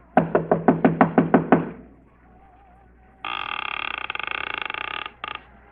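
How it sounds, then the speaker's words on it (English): Eight quick, loud knocks on a door as a radio drama effect, then a pause and a long buzzing tone that cuts off abruptly. "I finally took a chance and knocked on a door"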